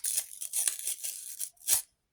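A paper surprise packet is torn open in a series of close, dry ripping bursts for about a second and a half, a short pause, then one final sharp tear.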